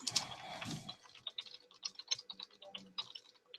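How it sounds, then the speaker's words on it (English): Rapid, irregular clicks of typing on a computer keyboard, close and fairly quiet, after a brief low rumble at the start, with no voices. "just typing something on Facebook."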